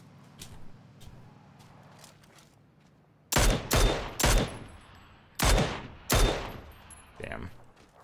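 Gunfire in PlayerUnknown's Battlegrounds cracks out as five sharp, loud shots in uneven pairs and singles, followed by a fainter sixth, over quiet in-game ambience.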